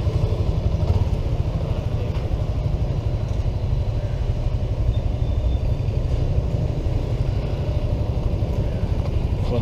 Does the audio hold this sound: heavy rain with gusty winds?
no